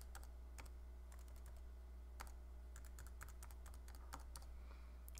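Tag numbers are keyed on a computer keyboard, irregular bursts of crisp keystrokes at close range over a low steady hum, with no voices.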